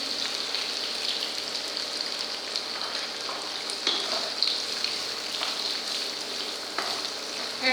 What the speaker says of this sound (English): And saute until onion gets light golden brown color.